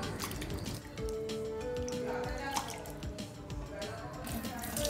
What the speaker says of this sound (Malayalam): അപ്പം വെള്ളം തെളിഞ്ഞു വരുന്നിടം വരെയും കണ്ടിന്യൂ ആയിട്ട് കഴുകിയെടുക്കുവാൻ ശ്രദ്ധിക്കുക.